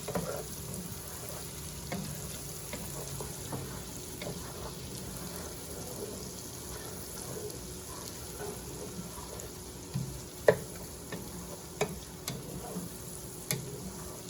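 Vegetables sauté in butter with crab claws and colossal shrimp in a pan. A steady, even sizzle runs throughout, with soft stirring and a few sharp clicks.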